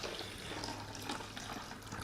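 Room-temperature water pours into a container in a steady, faint splashing rush, continuous and close.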